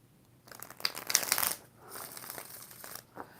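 A tarot deck is shuffled up close, a burst of sharp riffling and crinkly card friction followed by softer sliding and a final quick flick, with no talk.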